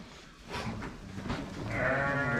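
Sheep and lambs bleat in a barn, a few calls rising over a steady background of livestock rustle, with a longer, louder bleat toward the end.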